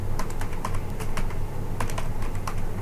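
Typing on a computer keyboard in the vim text editor on Ubuntu, a steady run of close, crisp key clicks with no talk.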